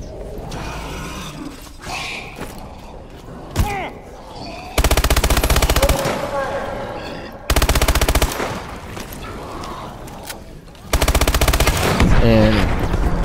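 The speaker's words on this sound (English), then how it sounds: "the MP11's okay, is okay. It's like a gun with super rapid fire." Rapid-fire MP11 gun in Call of Duty: Advanced Warfare zombies mode, three loud bursts of fast automatic shots separated by quieter game mechanisms and clicks, with a player talking between bursts.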